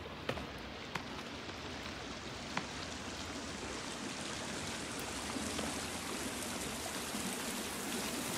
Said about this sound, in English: Must be water in here. Waterfall.